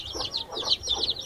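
At least 22 baby chicks, just separated from their mother hens, peep together in a constant shrill chorus of overlapping high chirps, close and fairly loud, with no talking.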